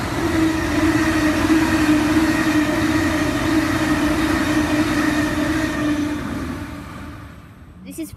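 A passenger train rumbles past close by, a steady loud roar with faint clatter that fades away near the end.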